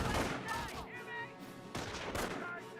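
Gunfire from a sniper counter-snipe in Company of Heroes bursts out in sharp cracks amid battle noise, heard under a commentator's steady talking.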